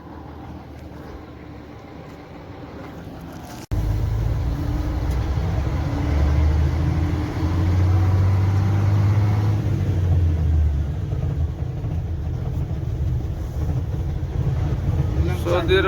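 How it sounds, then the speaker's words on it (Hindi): A car pulls up in a Saudi village in the morning, a steady low engine rumble rising after a sudden start and holding close, with voices talking over it. "ये अपना गाड़ी आ गया"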